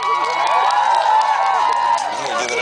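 A concert crowd claps and cheers loudly and steadily for a birthday boy, with voices shouting over the applause throughout.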